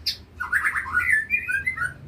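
A white-rumped shama calls alone, a high whistled phrase of varied, warbling notes, clear and close.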